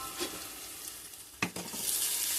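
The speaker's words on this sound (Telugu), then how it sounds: "చూడండి ఆనియన్స్ వేగినాయి" Onions frying in a pan for a fish curry give a steady broadband sizzle with one sharp scrape or stir near the middle, heard close with no voices.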